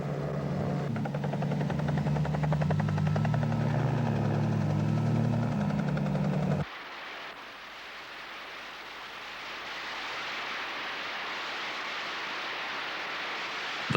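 A helicopter hovers and sets down on flat rocks at the edge of a gorge in rugged Kakadu country, its loud rotor thump and engine drone filling the air before cutting abruptly to a steady windy roar.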